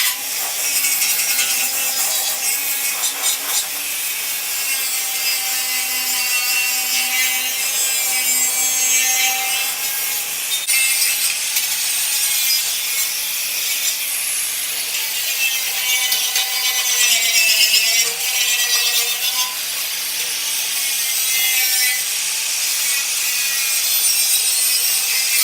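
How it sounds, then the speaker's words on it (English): Rust is scrubbed off a car's front bumper with a continuous, harsh, hissing scrape that runs close and loud without pause. "I just cleaned up the front bumper a little bit. Got just a lot of the rust off."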